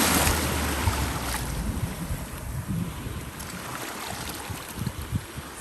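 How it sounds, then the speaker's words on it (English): Ocean waves surge onto a beach during a hurricane, making a loud, continuous roaring wash mixed with gusting wind, steady and close throughout with no talking. "Oh, and the waves are coming in."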